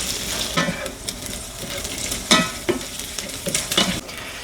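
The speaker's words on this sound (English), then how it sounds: "cook your bacon to your desired level of doneness" Bacon frying in a cast iron pan that started cold, a constant close sizzle and spatter broken by a few sharper pops and turning scrapes.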